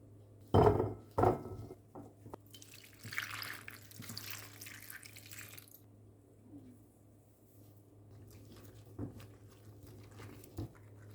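Cauliflower florets being washed under running water in a kitchen sink after soaking in salt water, with a few sharp handling clatters near the start and a low steady hum beneath softer splashing and drips.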